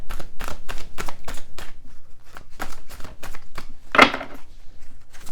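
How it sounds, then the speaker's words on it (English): Rapid riffling clicks of cards being shuffled, in quick bursts with a brief pause and a sharper snap near the end. "Few more shuffles, please."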